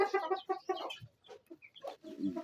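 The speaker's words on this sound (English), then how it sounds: "So you can see these are the chicks from the other side." Chicks in a brooder cage on a farm peep and cheep in a lively cluster of high, repeated calls, close by with brief pauses between bursts.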